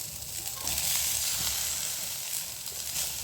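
Chopped onion and tomato sizzle and fry steadily in a pan of oil as the masala base for a mutton curry, a continuous close hiss with faint stirring and no talk.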